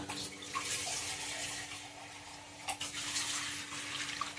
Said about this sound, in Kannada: ಸ್ವಲ್ಪ ಹಾಕ್ತೀನಿ ನೀರು ಹೆಚ್ಚು ಹಾಕೋದಿಲ್ಲ